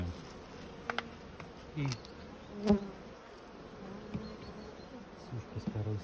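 Honeybees buzz steadily around the hive frames while a swarm is merged with a mite-damaged colony. The hum is close and soft, with a few faint clicks and thumps and a short word of speech.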